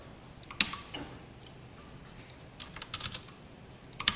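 HTML and CSS code is typed on a computer keyboard, with quiet irregular key clicks and short bursts of faster keystrokes close by.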